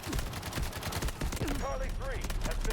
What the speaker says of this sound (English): I was rudely interrupted by being shot repeatedly